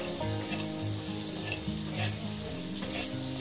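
Whole garam masala, cumin, coriander and fennel seeds with salt frying in a hot pan, giving a continuous dense sizzle with faint stirring scrapes throughout.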